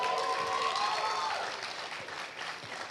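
Audience applause after a Bharatanatyam arangetram dance debut, a steady broadband wash of many hands clapping at once, loud at first and easing slightly toward the end, with no talk over it.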